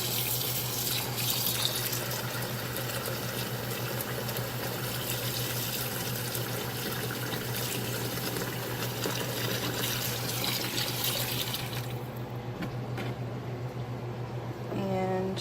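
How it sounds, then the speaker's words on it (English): Tap water runs steadily into a cooking pan of freshly formed raw meatballs to cover them, a continuous close splashing flow that cuts off near the end. "Now I'm going to add some water just to cover them up."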